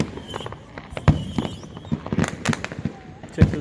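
Fireworks going off at a July 4th 2019 show, with several sharp bangs and crackles spread across a few seconds amid crowd noise and someone talking nearby.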